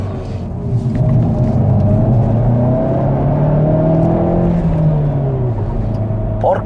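A Hyundai i30 N sports hatchback accelerates hard on the road, its engine rumble climbing steadily in pitch as revs build. The engine roars loud and continuous from inside the car, with a whirring drivetrain underneath.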